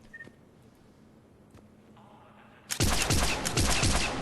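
Arc pistol bursts from Mass Effect 3 erupt suddenly after a quiet stretch, a dense rapid crackle of electric shots firing in quick succession, loud and close.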